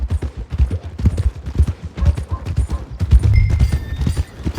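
Horse hooves clip-clopping at a steady walking rhythm in the video game Red Dead Redemption 2, close and clear with faint ambient game sounds behind.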